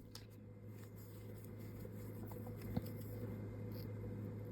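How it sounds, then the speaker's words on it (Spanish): Scissors snip through crochet yarn while an ear warmer is being finished, giving a few faint, soft clicks over a steady low room hum, quiet and close with no talking. "te voy a dejar un poquito de sonido de las tijeras porque me encanta"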